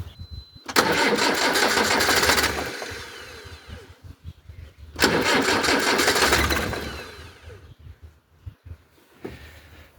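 A diesel engine cranks with its injector pump switched off, so it turns over without starting. There are two long, loud bursts of close-up starter churning, separated by a quiet pause.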